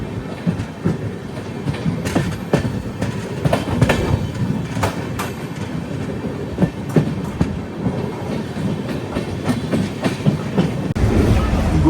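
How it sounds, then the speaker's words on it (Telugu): Pinakini Superfast Express rolling between Gudur and Nellore, a steady loud rumble of the train with rhythmic clickety-clack of wheels over rail joints, continuous throughout with no talk. "గూడూరు నుంచి మన బండి అయితే బయలుదేరింది."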